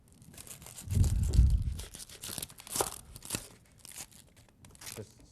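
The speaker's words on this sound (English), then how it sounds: "You want to cut that onion, get us some chunks of onion out of there." Knife chopping an onion into chunks on a kitchen board, heard as a few crunchy, tearing cuts with a louder burst early on and scattered sharp clicks afterward, fairly close but not loud.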